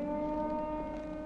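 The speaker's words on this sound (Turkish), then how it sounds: "Evet, sirenler duyuldu mesela şu an." A siren wails in a steady held tone through a horror game called Don't Scream, a brief, fairly loud sustained note with no voices.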